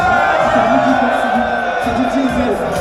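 Spectators at the Corrida de Noël 2025, a 10 km race in Issy-les-Moulineaux, cheer and whoop in a loud, continuous crowd roar that holds steady with voices rising from within it.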